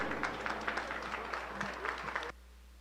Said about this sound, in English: One more round of applause for a very good set of commercial senior yearlings